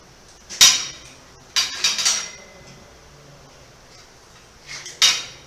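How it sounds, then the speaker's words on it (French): Ratchet screwdriver tightening a shower column fitting during a bath-shower mixer install, a few bright metallic clicks and scrapes in short clusters with quiet gaps between. "Tournevis américain."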